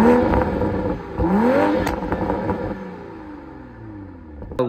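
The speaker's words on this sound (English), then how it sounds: "Exhaust, the note is absolutely incredible." A stock car with stock exhaust pipes and catalytic converters revs up twice in quick succession, its exhaust note rising and falling, then settles into a fading idle rumble.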